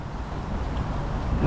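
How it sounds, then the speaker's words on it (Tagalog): Steady wind roars and buffets the microphone outdoors on a snowy winter day in Canada, a low continuous rumble throughout with no voices. "Hangin talaga oh. Ito yung isa sa nagpapalamig no, tong hangin."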